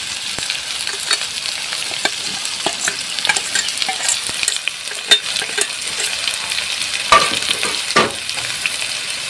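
Ginger paste, cumin and chili powder get stirred into frying vegetables for a hilsa fish curry with sola kochu and potato, a spoon scraping and clacking in the pan over a steady sizzle, close and fairly loud.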